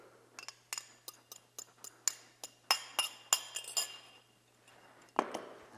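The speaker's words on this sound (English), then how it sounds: "I'm going to stir that a little bit with my fork" A fork stirs eggs into pumpkin pie filling in a glass bowl, producing a run of sharp, close clinks and taps in an irregular rhythm, with a louder knock near the end and no talking.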